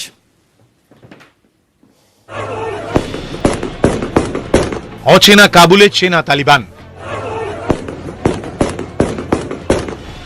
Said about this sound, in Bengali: কাবুলের রাস্তায় জনতাকে ছত্রভঙ্গ করতে চলে গুলি।